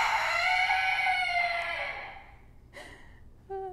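A silkie chicken lets out one long, loud crow that trails off, followed by a few short clucks after a pause.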